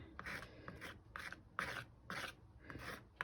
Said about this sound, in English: So you just literally scrape it on. You can use a palette knife or an old credit card.